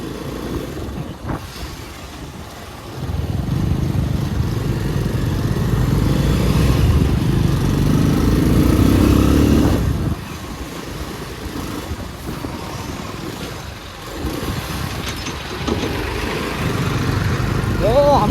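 A motorbike engine hums and rumbles while riding on a trip from Pokhara toward Maidi Tal Deurali, rising louder mid-clip then easing, with wind noise and occasional voices underneath.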